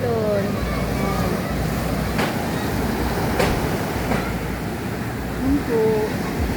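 Rough sea surf rolls onto a beach in a continuous loud wash, with people talking and shouting faintly over the steady roar of the waves.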